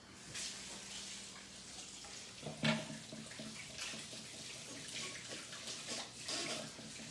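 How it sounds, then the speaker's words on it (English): Running tap water splashes steadily as hands are washed at a kitchen sink during cooking, a continuous moderate gush with a brief louder splash partway through. "And let me just wash my hands."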